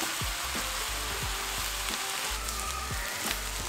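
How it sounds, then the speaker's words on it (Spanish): Ground beef and vegetables fry in a pan with a steady, close sizzle, punctuated every half second or so by soft knocks of stirring. "Y aquí, ya que agarró aroma, agregamos carne molida de res."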